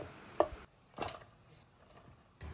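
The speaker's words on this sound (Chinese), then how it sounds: "然後再給它切成這種薄片備用" Cleaned mushrooms are sliced thin with a knife on a cutting board, giving a few sharp, spaced chops close by with quiet pauses between and no talking.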